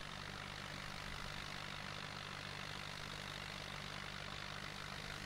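Tractor engine from the video game Farming Simulator 2011, a red tractor heading out onto the road, holding a steady, loud idling drone with a low rumbling hum that never lets up, and no talking over it.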